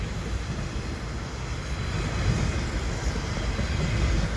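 A CN double-stack freight train rumbles past in winter cold, a steady loud broadband roar of wheels and cars that swells slightly and holds throughout.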